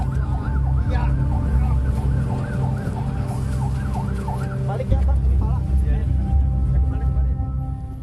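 An ambulance siren wails in a steady repeating cycle throughout, loud and close, over heavy low traffic rumble, with the pattern shifting near the end.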